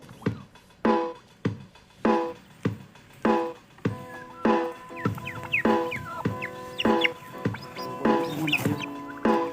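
Newly hatched turkey chicks kept in a cage, chirping and peeping in short, repeated near calls throughout, with some louder overlapping cheeps and no talk.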